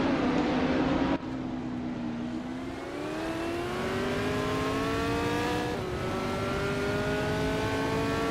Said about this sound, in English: Ren Kaori is driving a 1970 Chevrolet Camaro Dotata.